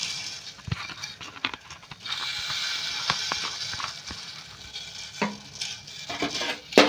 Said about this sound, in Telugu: గుడ్లను అయితే ఫ్రై చేసుకున్నాం